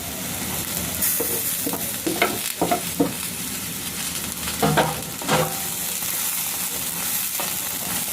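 Spices being stir-fried in a pan for a muri ghonto dish, a steady close sizzle broken by several sharp scraping stirs of a spatula, with no talking.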